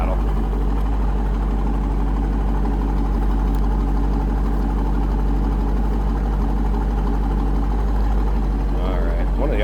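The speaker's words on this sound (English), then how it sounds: "Good sounding car at idle." A 2000 Chevrolet Corvette Coupe engine idling close by, a loud, steady low rumble that holds evenly throughout, while someone talks over it.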